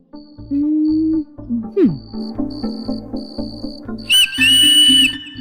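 Repeated whistle blasts in a domestic film scene, short sustained toots in a rhythmic series with a sliding squeal, ending in a higher shrill burst.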